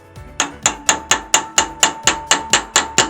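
A hammer drives a concrete nail with about thirteen sharp, loud, evenly spaced metallic blows in quick succession, close by and alone.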